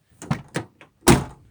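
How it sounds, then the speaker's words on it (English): A car's power door lock actuators fire in several quick mechanical thunks, three lighter clicks followed by a louder final clunk, close and with no talk. "if I do like so and locks this door and locks all four doors, and if I unlock it"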